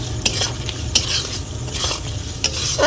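A spiced chicken mixture with salt, coriander, cumin and red chilli powder stirred and fried in a pan for a tomato chicken dish, with a steady sizzle under repeated scraping strokes of a spoon, close and fairly loud.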